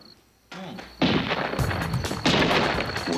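Gunfire rings out in a dramatized Old West shootout with a sheriff's posse, several loud close shots cracking in quick succession with ringing tails, the volume building toward a dense volley at the end.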